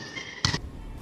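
A basketball slaps the ground once in a bounce trick shot, a short, punchy thud heard close, followed by a fainter echo against a steady background hiss.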